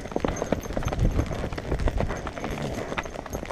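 Horse hooves clip-clopping close up at a brisk, irregular pace, loud sharp strikes tumbling over each other as the horse moves quickly, with little else heard.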